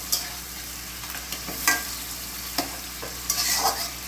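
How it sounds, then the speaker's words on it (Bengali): Fish heads fry in a cooked-down spice masala and are stirred, giving a quiet, steady sizzle with several sharp spoon scrapes and clinks at irregular moments. "মশলা কষানো হয়ে গেছে, এর ভিতরে আমি মাথাগুলো দিয়ে দিলাম।"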